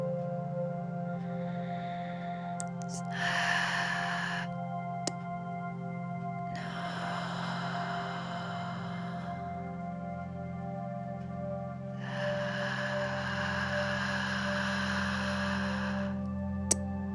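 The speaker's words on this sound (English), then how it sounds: "We're going to be breathing in Sat, big inhalation in, and then exhaling Nam, drawing the navel to spine" Deep Kundalini yoga breathing, with long, slow inhalations and exhalations heard as three breathy swells over a steady, sustained musical drone.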